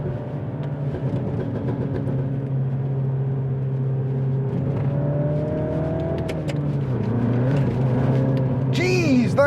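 Modified Mini F56 JCW hatchback engine driving, rising and falling revs with a tonal whine over road rumble, ending in a sharp burst at the close; a person talks over it.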